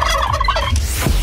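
A turkey gobbles loudly and close up in a Romanian radio advert for turkey meat, a rapid, warbling burst that ends with a rising call.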